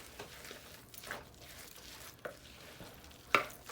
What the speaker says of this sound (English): Just stir everything together until it gets a little moistened.